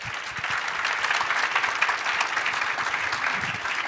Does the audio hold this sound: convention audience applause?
yes